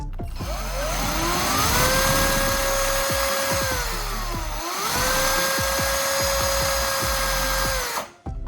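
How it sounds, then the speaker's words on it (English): Rotary tool with a homemade sand-and-superglue grinding head sanding small wooden edges, a steady high-pitched whine with shifting pitch and a gritty scraping texture, close and loud, running almost continuously with a brief dip midway before cutting off. "The grinding head was able to smooth small wooden edges and remove surface imperfections effectively."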